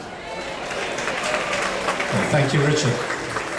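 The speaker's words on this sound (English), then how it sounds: "You've got to bring him on with a huge round of applause" Applause from an audience aboard the cruise ship Star Princess fills the background, a steady wash of clapping with a voice speaking over it.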